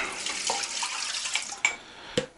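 Well water runs and splashes steadily into a pot, about 1.5 litres, with a couple of sharper clinks and drips near the end, outdoors in minus 40 cold.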